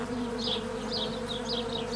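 A honeybee buzzes steadily and close by, a continuous drone with slight swells in pitch and loudness, heard alone without any voices.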